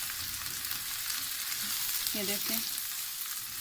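Egg brain masala frying in a pan with tomatoes and green chilies, a steady loud sizzle throughout, with a short spoken remark over it.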